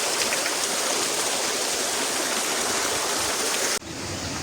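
Water pours steadily from the seven stone spouts at Chitlang, a loud, continuous rushing splash that cuts off abruptly near the end, leaving a quieter, duller wash.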